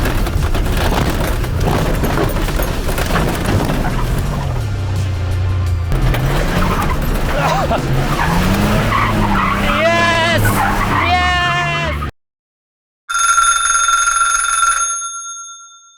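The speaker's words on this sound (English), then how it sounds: "There was a lot of tire smoke, a lot of wheel spin" A Jeep off-road build spinning its wheels and skidding, loud roaring engine and tire noise with rising squeals near the end, then a short silence and a ringing electronic tone; speech-like sounds mix in.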